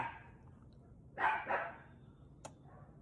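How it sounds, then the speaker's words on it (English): A neighbor's dog barks twice in quick succession from some distance, moderately faint over a quiet room tone while someone works on an arcade machine. "my neighbor's dog decided to visit me"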